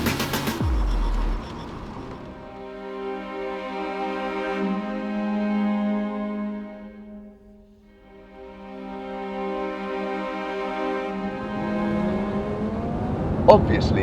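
A Lamborghini Huracan supercar drives past on the road, its engine note rising as it approaches and then falling away as it recedes, a steady loud roar with a brief dip in the middle.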